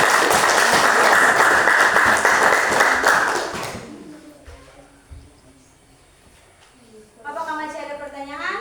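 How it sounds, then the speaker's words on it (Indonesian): Dense, loud audience applause after a class presentation fills the room, then dies away after about four seconds, leaving quiet room noise before voices come in near the end. "Berikan tepuk tangan."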